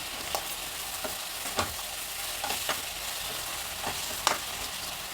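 Peas and fenugreek leaves fry in a pan for an avalakki methi bath, a steady quiet sizzle broken by scattered soft clicks of stirring, fairly close, with no voices.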